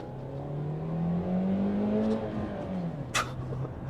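An MG3 with a 1.5 litre engine drones loudly while driving, the engine note rising and then easing in pitch, with a brief sharp click near the end.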